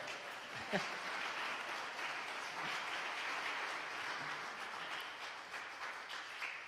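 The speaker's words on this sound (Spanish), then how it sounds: "Denle un aplauso a Argemiro" A church congregation applauds, a soft, diffuse spread of clapping heard from a distance and held at a low, even level, with a few murmuring voices mixed in.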